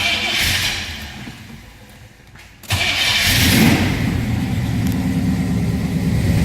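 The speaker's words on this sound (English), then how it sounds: "Let's go ahead and fire this up so you can hear it run." A 1969 Chevrolet Chevelle SS tribute engine fires up after a short quiet gap near the middle, then settles into a steady, loud rumbling run that holds to the end.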